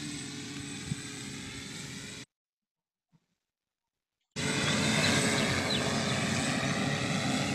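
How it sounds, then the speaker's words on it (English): A drone flies with a steady, loud propeller whir that drops out completely for about two seconds in the middle, then returns just as strong. "Till the screen is blank, we can hear a drone sound."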